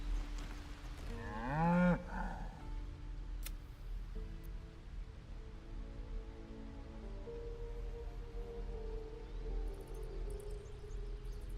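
A cow in Baldur's Gate 3 lets out one rising and falling moo near the start, followed by a long stretch of soft, rain-like ambience with a faint low hum.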